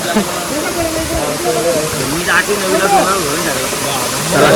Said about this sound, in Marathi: 3 दिवस पाणी नाही पडला तरी वॉटरफॉलला अगदी पाणी आहे